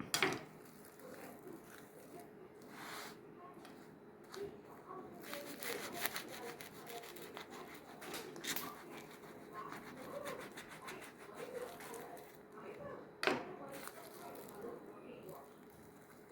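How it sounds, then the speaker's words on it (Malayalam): A knife saws through a fruit sandwich with soft, faint rubbing and scraping strokes, close by and fairly steady, with one sharper tap near the end. "മറ്റേ പീസ് നമുക്ക് കട്ട് ചെയ്ത് നോക്കാം."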